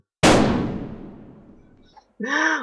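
A single sharp, loud gunshot in a horror video game, Hotel Remorse, rings out and decays in a long reverberant tail, followed a moment later by a brief burst of speech.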